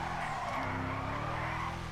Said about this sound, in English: That was a perfect drift